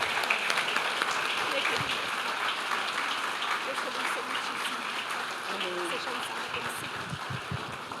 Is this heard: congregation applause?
yes